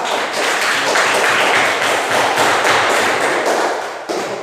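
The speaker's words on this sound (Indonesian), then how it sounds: "Kita beri aplaus untuk kelompok 2" A classroom group claps for a group presentation, a dense, continuous wash of many hands heard close and loud for about four seconds before tapering off.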